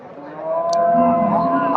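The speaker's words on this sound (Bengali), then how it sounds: "এই যে এখানে একটা দেখেন মোটামুটি এই যে জার্সি গাভী" A Jersey cow at the Chandaikona cattle market lets out a loud, close, drawn-out moo lasting most of the moment, with a brief click partway through.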